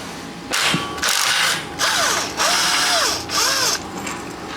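An impact wrench working on the starter bolts of a 1954 Chevy during a transmission swap, firing in several loud bursts of hammering whir with short pauses between them, close up and without talk.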